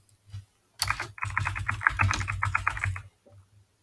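A computer keyboard is typed on in a fast, close burst of clicking keystrokes lasting a couple of seconds, framed by a few isolated taps before and after, with no talking.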